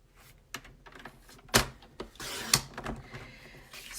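Designer series paper is trimmed on a paper cutter, a few sharp clicks and thumps followed by a longer sliding cut, close and fairly quiet, no talking.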